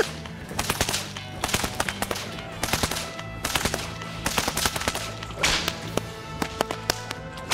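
Leather bullwhip cracked in a fast, continuous machine-gun volley at a whip and leathercraft shop, sharp snapping reports coming in rapid dense bursts for several seconds, close and loud.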